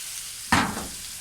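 Ginger garlic paste dropped into a pan of hot oil over low heat, a sudden sharp sizzle that flares up and quickly fades into a quiet hiss.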